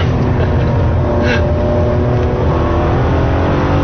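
A Ferrari 599 GTB Fiorano V12 revving hard on the Fiorano circuit with quick gear changes, a loud continuous engine drone heard up close, likely from inside the car, with no speech.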